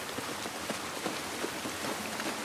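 Steady rain pattering outdoors in the quarantine zone of The Last of Us Part I, a soft continuous hiss with scattered droplet taps, no voices.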